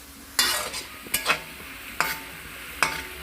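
Chicken fries in a pan with curry leaves, giving a steady low sizzle broken by four sharp stirring scrapes spread across the moment, close and clear with no one talking.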